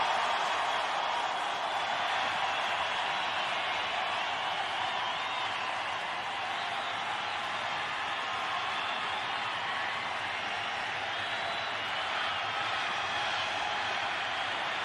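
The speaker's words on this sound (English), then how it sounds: "And listen to this crowd." Dense, steady roar of a stadium crowd at a 2005 Lions at Steelers NFL football game, a continuous wash of cheering and chatter that holds loud and even throughout with no single voice standing out.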